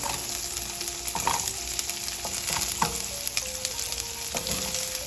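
Carrots stir-fry in a hot pan with shrimp already taken out, giving a steady bright sizzle broken by repeated clicks and scrapes of stirring, with a high continuous hiss throughout.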